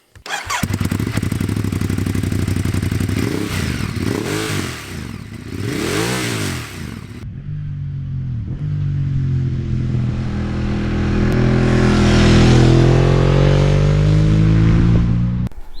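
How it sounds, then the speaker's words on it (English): A Ducati Monster 821 motorcycle exhaust revs loudly several times with rising and falling whines, then settles into a deep, throaty idle that swells again. "I'm going to get a quick exhaust sound check before we go"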